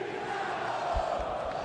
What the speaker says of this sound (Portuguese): Torcida do Vasco faz a festa no Maracanã.